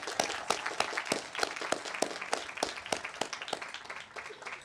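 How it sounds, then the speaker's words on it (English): Scattered clapping from a graduation audience honoring the graduates' families, a loose patter of individual claps that holds steady at moderate distance before thinning slightly toward the end. "Let's all give a round of applause to our families who are a big reason why we made it here today."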